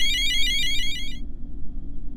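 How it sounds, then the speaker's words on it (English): Spaceship alarms in the video game Mars 2035: a rapid pulsing electronic warble sounds loudly over a low rumbling drone, then cuts off abruptly partway through, leaving only the engine-like hum. "someone turn off those alarms"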